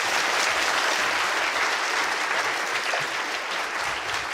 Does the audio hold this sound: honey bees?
no